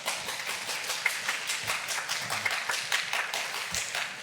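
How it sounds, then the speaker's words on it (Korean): A small chapel congregation at a university worship service claps in welcome as the pastor comes forward, a dense and even patter of many hands at moderate distance. "목사님 나오실 때 환영의 박수로 여러분 맞으시기 바랍니다."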